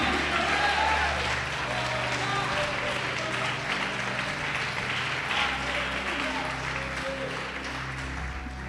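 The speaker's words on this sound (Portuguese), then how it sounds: "Pode aplaudir, glorificar." A church congregation applauds during a sermon on faith and prayer, with a dense wash of clapping and crowd noise spreading through the hall, steady and moderately loud, mixed with a low hum and some voices.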